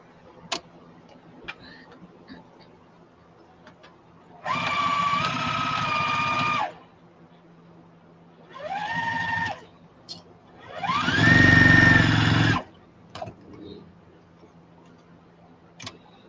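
A home sewing machine running with an empty bobbin whirs in three bursts of varying length, separated by quiet pauses with small clicks and handling noises, close and moderately loud.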